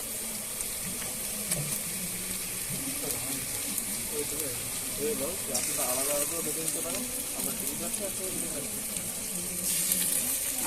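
Browned onions and a cumin-ginger paste fry loudly in a pan, with a dense continuous sizzle that flares brighter when the paste goes in and again near the end. A voice talks over the cooking.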